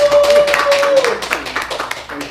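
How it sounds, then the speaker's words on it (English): Audience applause for a guest speaker at an entrepreneurship course: a dense wash of claps that stays steady for a couple of seconds, with a thin tone running through the first half. "Let's give him a round of applause, everyone."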